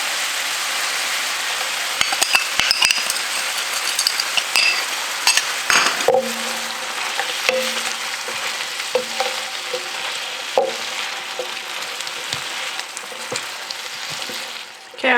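Tender fajita vegetables sizzle loudly in a pan as fajita seasoning mix is stirred in, with a constant frying hiss and repeated utensil scrapes and taps against the pan.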